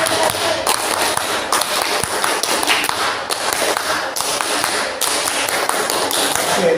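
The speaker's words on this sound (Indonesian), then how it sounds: "Kita akan coba 2 kali tepuk pramuka." A group of people at a school gathering does Pramuka scout clapping, sharp rhythmic claps repeated in dense patterned bursts across the whole stretch, close and loud, with no voices over them.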